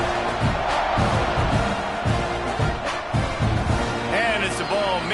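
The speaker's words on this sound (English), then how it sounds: "this crowd is buzzing after that last score" A crowd buzzes and roars continuously in a college football video game stadium (College Football 26) after a score, a dense steady din with commentary voices speaking over it.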